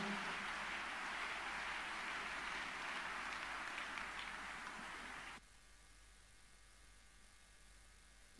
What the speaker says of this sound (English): Let's clap unto God and appreciate Him.